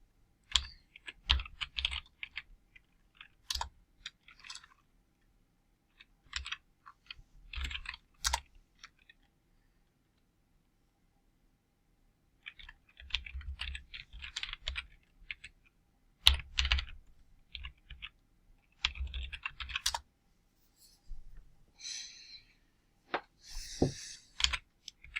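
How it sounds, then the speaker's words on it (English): Typing on a computer keyboard comes in several close bursts of rapid clicks separated by short pauses, with no talking. "If I can type correctly."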